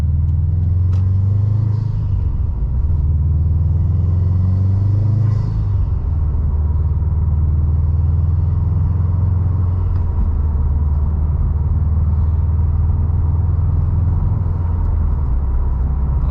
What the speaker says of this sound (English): these cars really do have one of the most distinctive sounds out of any car